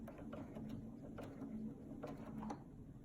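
A sewing machine stitches free-motion quilting with a soft, fast mechanical whir and faint rhythmic needle clicks in short runs, quiet and continuous with no talking.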